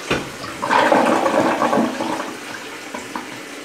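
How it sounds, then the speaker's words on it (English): A Smarter Flush dual flush toilet doing a half flush: one loud, close rushing flush that swells quickly, holds for about two seconds, then tapers off as the bowl drains, with no talking. "So half flush."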